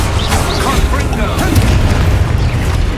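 Confringo fire blast spell explosion in the video game Hogwarts Legacy, a loud continuous booming rumble with crackling bursts, sustained throughout with voices mixed in.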